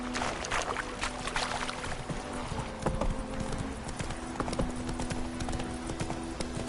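Steady clip-clop of a horse's hooves trotting in The Witcher 3 video game, continuous rhythmic footfalls up close over a busy ambient background.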